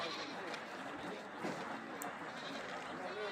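Goats bleat faintly at a Kerala festival livestock market where billy goats are sold, giving a few short calls over a low crowd murmur while people talk nearby.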